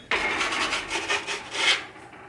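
Sourdough pizza is scraped off a wooden peel onto a pizza stone heated to 500 degrees, giving a close, breathy rasping scrape of about two seconds with a few pulsing strokes.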